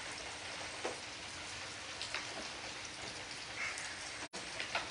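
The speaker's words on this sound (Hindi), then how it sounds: "और सुबह से लगातार बारिश जारी है।" Heavy rain falls steadily in Jammu, a dense continuous hiss with scattered drips and patters, fairly faint and close, with no voices.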